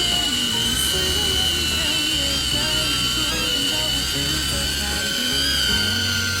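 A DJI Avata FPV drone strafes sideways, its steady high-pitched propeller whine holding loud and continuous, with slight pitch wavers as it shifts, alone without talk.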